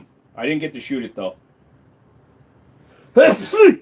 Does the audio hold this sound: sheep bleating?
no